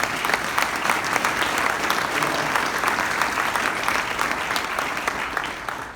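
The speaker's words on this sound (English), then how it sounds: "Let's have a round of applause for that." A packed auditorium audience claps at a physician assistant white coat ceremony, a thick, even wash of applause holding steady throughout before tapering slightly at the end.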